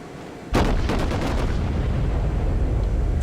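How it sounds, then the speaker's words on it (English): A warship in a naval video game fires a full broadside of cannons, one sudden loud booming volley that rolls on into a sustained rumbling echo. "Fire off another broadside."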